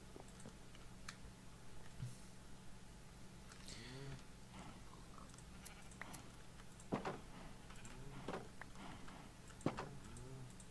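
Minecraft sheep bleat several times in a game, wavering calls spaced through the clip over a steady background hum and light clicking, with no talk.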